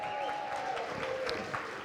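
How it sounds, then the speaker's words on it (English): Gala audience applauding and cheering together for Hope for the Homeless, a steady dense wash of clapping with a few raised voices mixed in, close and sustained throughout. "Would you give a cheer for Hope for the Homeless with every single bid card in the air?"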